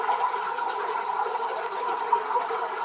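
Muffled gurgling of an underground stream running steadily deep beneath a boulder field on Taganay, a continuous hollow trickle with no voices.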